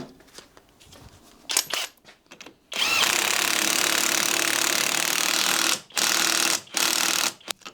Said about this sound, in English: I'm just gonna tighten it with my ratchet gun